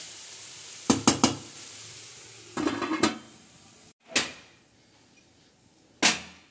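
Dry cooking pots and dishes are handled in a home kitchen: a quick run of sharp metallic clinks and clatters, a rattling burst, then two more separate knocks spaced over several seconds, fairly close with no talking.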